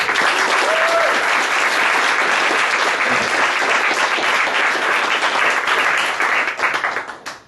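Loud, sustained applause from a crowd, clapping steadily for several seconds before tapering off at the end.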